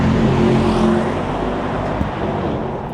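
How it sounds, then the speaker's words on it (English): A Mercedes-AMG GT63 coupe launching in race mode, a loud, close engine roar that holds strong then eases slightly as the car pulls away, heard from inside the cabin with no talking. "So we're going to go into race mode and just do a little launch ski here. And here we go. Race start."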